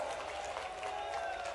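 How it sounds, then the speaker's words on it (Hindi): A crowd claps together at an outdoor public event for a bridge inauguration in Datia, a brief, fairly distant burst of steady applause. "ताली वाली बजा के बताओ"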